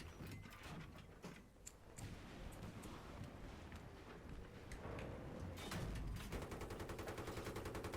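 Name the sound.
mobile artillery explosions in Battlefield 3 video game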